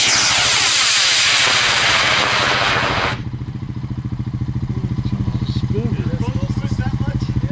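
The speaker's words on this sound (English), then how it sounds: "3, 2, 1, ignition." A model rocket motor ignites with a sudden loud roaring hiss that cuts off after about three seconds, followed by a rhythmic throbbing engine-like drone and faint voices in the background.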